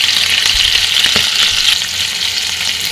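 Shrimp with salt and turmeric being stirred in a hot pan, a loud continuous close sizzle with scraping stir sounds, no voices.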